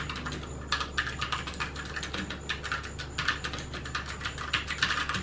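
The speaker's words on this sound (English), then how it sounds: "I like typing on this keyboard" Rapid clicky keystrokes on an AJAZZ AK60 RGB mechanical keyboard patter in uneven bursts, close and crisp, with no voices.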